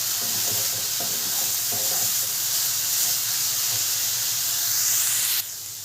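Carrot halwa is stirred in a hot pan, with a steady hiss and sizzle and a few rhythmic scrapes early on, loud and close, ending abruptly without speech.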